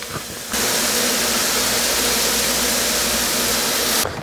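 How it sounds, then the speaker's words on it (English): Bacon sizzling in a small skillet, a steady loud frying hiss that starts abruptly after a brief moment and holds evenly for several seconds before cutting off. "I'm gonna throw some bacon on my little skillet thing here"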